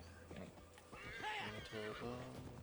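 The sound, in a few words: donkey braying in the video game Assassin's Creed Valhalla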